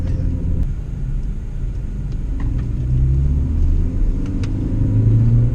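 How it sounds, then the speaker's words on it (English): A 2019 Proton Persona accelerates hard on a test track, heard as a steady, loud engine and road rumble with rising pitch and occasional faint clicks. "our driver is accelerating hard towards the cone marking points, and he's going to swerve hard"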